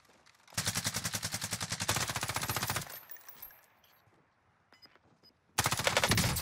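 Rapid automatic gunfire in Call of Duty Warzone, a loud sustained burst of fast repeating shots for over two seconds, a quiet gap with faint distant pops, then another loud burst.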